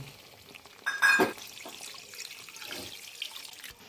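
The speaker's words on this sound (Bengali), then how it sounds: "এবার আমরা ঢেলে দিচ্ছি জল।" Water poured into a pan of cooked-down masala gravy made with cashew paste for jackfruit kofta curry, a short loud gush and splash lasting about half a second, then faint sizzling and settling sounds.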